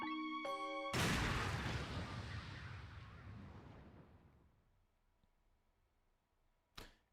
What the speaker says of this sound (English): Yeah, I'm going to shoot.